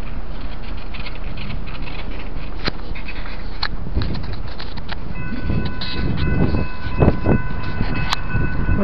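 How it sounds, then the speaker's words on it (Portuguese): A train passes close by, a steady broad rumble of rail cars with clanks and rattles, joined near the end by sustained horn-like tones; no talking. "O trem vem de lá e vai pra lá."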